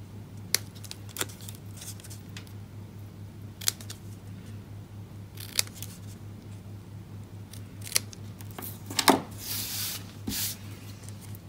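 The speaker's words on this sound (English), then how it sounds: "So cutting up in the middle and just giving it a banner cut." Scissors cut a banner notch into a paper tag for a stamped note card, giving several sharp, close snips at irregular intervals, with a longer crunchy cut near the end, over a low steady hum.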